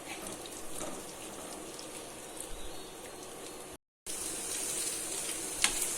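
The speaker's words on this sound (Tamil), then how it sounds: "நான்ஸ்டிக் தவாவில் முட்டை இப்படி பொரிச்சுன்னா நல்லா அடியில் அடி பிடிக்காமல் இருக்கும்" An egg frying on a nonstick tawa, soft steady sizzling and crackling with a short gap partway through, fairly quiet and close, with no voices.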